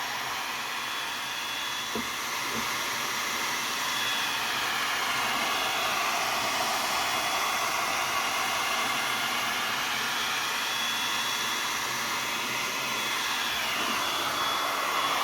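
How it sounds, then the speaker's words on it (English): A heat gun blows continuously on a Mercedes headlight lens cover with a steady, close, whooshing roar. Faint soft taps can be heard under it. "heat gun under the angle, cover as much area as you can"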